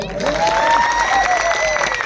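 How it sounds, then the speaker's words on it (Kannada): An audience at a Kannada comedy show claps steadily and loudly for about two seconds, a dense wash of clapping with some crowd noise mixed in. "ಇವರೆಲ್ಲರೂ ಸೇರಿ ಒಂದ್ಸತಿ ಜೋರಾದ ಚಪ್ಪಾಳೆ"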